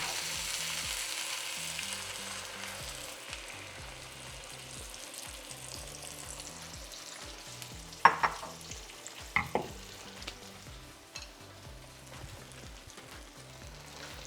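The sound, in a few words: beaten eggs poured into a pan of sliced potatoes, sizzling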